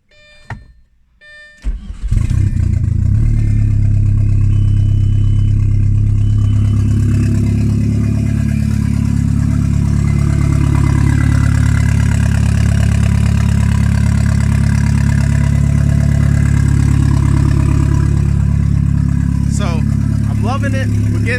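An Audi A4 B6 engine with a 07K 2.5T swap fires up and holds a loud, steady, rough drone on two-step launch control near the microphone for a long stretch, with crackly pops near the end.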